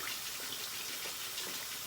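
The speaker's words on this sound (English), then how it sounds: "So need to get some warm water going." Warm water runs steadily from a tap into a sink for rinsing a razor blade, a continuous close broadband splash with no talk over it.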